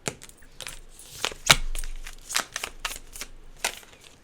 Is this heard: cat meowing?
no